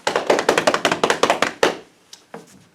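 A group of hands patting out a quick, steady galloping rhythm, loud and close, then trailing off into a few scattered taps; the tapping imitates horses' hooves, done by a group at vacation Bible school.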